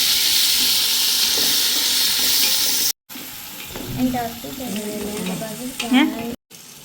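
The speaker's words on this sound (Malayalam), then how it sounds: "അപ്പോൾ അതാ നമ്മൾ ഇനി മസാലയിലേക്ക് തക്കാളി ചേർക്കുക കേട്ടോ. നമുക്ക് തക്കാളി ഒന്ന് വാട്ടി എടുക്കാം." Tomatoes sautéing in a masala in a pan: a steady broadband sizzle that pauses briefly, then returns with stirring and scraping clatter and a few faint background voices.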